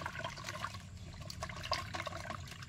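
Tap water runs steadily while fish are washed after cleaning, a continuous close splashing flow with small trickles and spatters, no talk over it.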